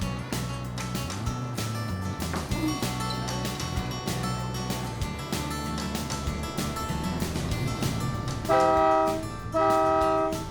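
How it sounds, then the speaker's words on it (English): A train at the Southeastern Railway Museum moves off, with a steady rumble and clatter of wheels and cars, then two loud horn blasts near the end. "And off we go on the train."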